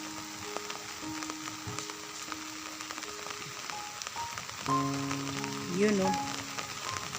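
Rain falls on a lake during net fishing for tilapia in Toledo City, Cebu, a faint, steady hiss across the water, with a short spoken remark and some tonal noises rising briefly near the end.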